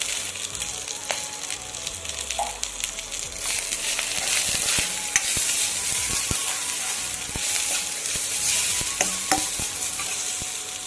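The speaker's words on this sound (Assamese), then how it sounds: "মছলাখিনি আগত ভাজি লওঁ" Spices, including turmeric, fry in oil in a pan for a soya and chickpea masala, giving a steady close sizzle with a spoon scraping and stirring through it, with no voices.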